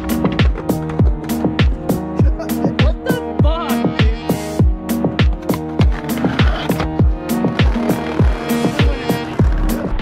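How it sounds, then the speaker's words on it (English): Skateboard rolling over rough street pavement at a San Francisco skate spot, with a steady run of loud, regular clacks from the wheels over seams and a grind onto a small block. It is close and continuous, with no voices. "Let's give it a little ride on grind."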